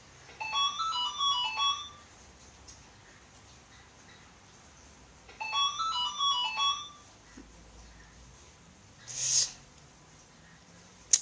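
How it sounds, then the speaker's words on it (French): A mobile phone rings indoors with two bursts of a melodic electronic ringtone separated by a pause, followed by a short beep. "c'est mon téléphone qui sonne."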